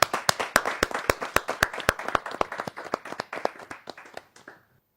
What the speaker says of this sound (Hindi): मैं जोरदार तालियों के साथ मैं अभिनंदन करता हूं राजेश चेतन जी का।